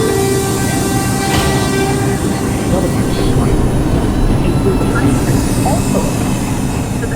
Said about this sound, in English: This is a Bronx-bound 5 express train.